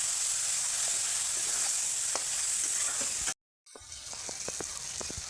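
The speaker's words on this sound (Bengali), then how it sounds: "তো ভালো করে মশলাটাকে একটু কষিয়ে নিচ্ছি" Spice paste for chicken curry sautéed in a pan, a loud continuous hissing sizzle with occasional scrapes of the spatula, cut by a brief dropout before the frying resumes, with no voices.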